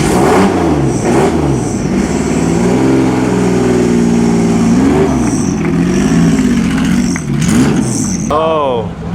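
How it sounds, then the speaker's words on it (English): A Lamborghini Miura SVJ's V12 engine revs repeatedly, rising and falling in pitch with loud, close throttle blips and a sustained high-rev stretch, ending in a sharp rising rev. "And just listen to that V12."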